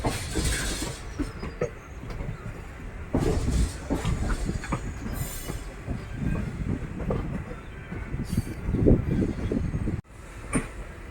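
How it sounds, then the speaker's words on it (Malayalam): A passenger train switching onto the third track beside a stationary goods train loaded with pipes, its wheels giving a continuous rumbling clatter with irregular knocks and a few brief squeals, loud and close throughout. "മൂന്നാമത്തെ ട്രാക്കിലേക്ക് മാറിയിട്ടാണ് ട്രെയിൻ പോകുന്നത്"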